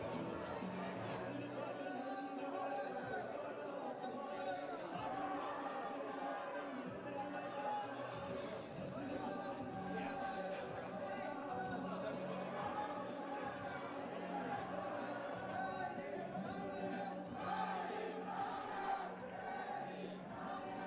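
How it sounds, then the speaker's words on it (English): A crowd fills an indoor soccer arena with steady hubbub of chatter, shouts and cheers, a continuous dense babble with an announcer's voice talking over it throughout. "Pretty good crowd here."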